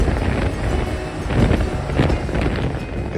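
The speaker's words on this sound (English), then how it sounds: "It was real windy all day today" Strong wind roars steadily around a snow machine ride in remote Alaskan country, a loud, continuous buffeting rush with no voices.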